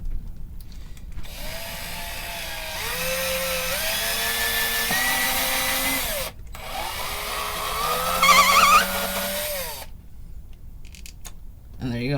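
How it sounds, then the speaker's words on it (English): A power drill whirs in two long bursts, drilling holes in a guitar bridge, its pitch rising as it spins up and straining as it bites, separated by a brief pause. "And we just drill in."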